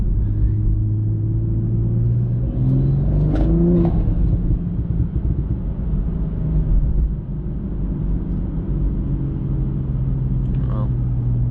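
A tuned BMW G42 M240i engine rumbles and revs up and down on a night drive, droning steadily with rising pitch at times, close and fairly loud throughout.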